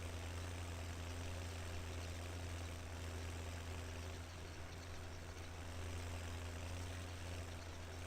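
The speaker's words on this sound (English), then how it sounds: "Go, big tractor, go!" Big tractor engine in the Farming Simulator 17 video game, a steady low droning hum that runs unbroken throughout at a moderate, even level, with no voices over it.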